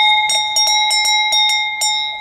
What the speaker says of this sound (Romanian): prietenul meu, Răzvan, e colecționer de clopote